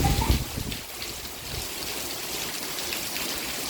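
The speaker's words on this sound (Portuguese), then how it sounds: "Chuva tá gelada?" Steady rain falls outdoors, a dense, even hiss of drops with some trickling water, moderately loud and continuous after a brief low thump at the start, with no voices.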